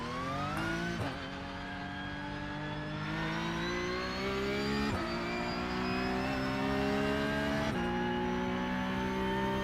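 A race car engine in a sim racing game revs and climbs through gears, with steady rising whines broken by a few shift drops. The sound is continuous and fairly quiet, and no one speaks.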